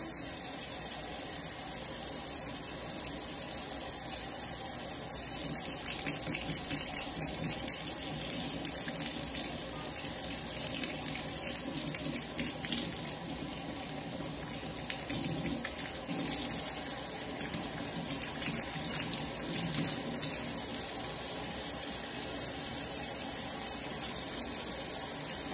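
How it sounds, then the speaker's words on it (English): A tap runs steadily into a sink for a long stretch at a pharmacy hand-washing station, a constant close splashing hiss with no talking. "I'm going to start by turning on the water with a paper towel and wait for the water to turn warm."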